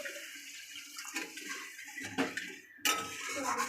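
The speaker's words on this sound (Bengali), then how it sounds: "এবারে এর মধ্যে অল্প একটু জল দিয়ে দেব।" A little water poured into spice paste frying in a pan while cooking egg curry, a soft splash and clatter of cookware, then a sharp sizzling hiss that continues at moderate volume.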